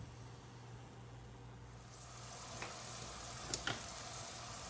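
Soft, continuous sizzling of ham frying in an iron skillet, faint and steady, with a few light clinks near the end.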